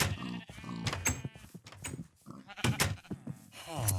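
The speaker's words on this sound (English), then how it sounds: "Ooh, sheep! Sheep!" Sheep bleat in Minecraft, with short wavering calls scattered through four seconds, fairly faint and mixed with other game noises and clicks, with no one talking.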